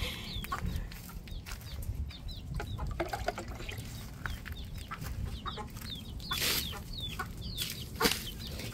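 Chickens, laying hens, cluck in repeated short bursts across the whole stretch, fairly faint, over a low rumbling background.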